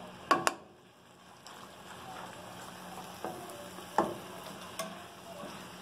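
Chicken fillet sears in a pan with a low, steady sizzle, while a utensil stirs it and scrapes and knocks against the pan in several sharp clacks.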